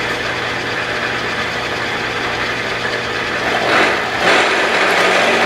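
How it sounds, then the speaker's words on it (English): A machine runs steadily with flood coolant, giving a continuous mechanical hum with broadband hiss and a brief surge of splashing noise near the end. "We'll just run flood coolant."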